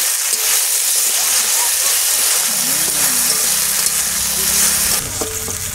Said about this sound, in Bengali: মাছগুলো ভাজা হয়ে গেছে, এবারে চালতেগুলো ভেজে নেব।